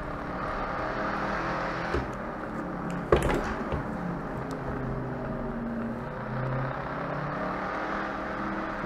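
A Shelby Cobra 427 S/C drones steadily from inside the cabin on the Nurburgring. The engine note holds constant, broken by a sharp knock or clunk partway through.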